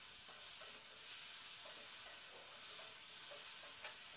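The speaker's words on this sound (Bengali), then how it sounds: "এবার খুব ভালো করে মশলার সঙ্গে আলুটাকে নাড়াচাড়া করে বেশ করে কিন্তু কষিয়ে নেব।" Cubed potatoes frying with spices in a pan, a soft continuous sizzle with faint scraping strokes of stirring, fairly quiet and without talk.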